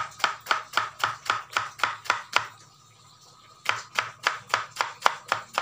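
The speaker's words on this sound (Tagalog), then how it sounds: "So, tatadtarin lang natin ito ng pino para ihalo natin." A knife chops bamboo shoot finely on a board in rapid, even knocks, close and loud, breaking off briefly in the middle before the steady rhythm resumes.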